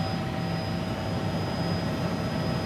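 A military helicopter skims low along cliffs in a valley of the Adrar des Ifoghas, giving a loud, steady turbine whine over a dense, unbroken drone throughout. No voices are heard.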